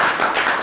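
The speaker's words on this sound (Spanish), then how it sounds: "Primero tenemos un aplauso" Brief burst of audience clapping after a lecture on the 500 years of the Protestant Reformation, dense and steady for under a second with no voices.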